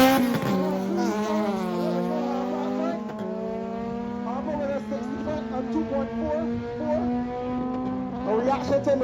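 A K-Series car and a 4AGE car in a drag race at Bushy Park rev hard, their engine notes climbing and shifting in loud overlapping tones, with voices under the roar.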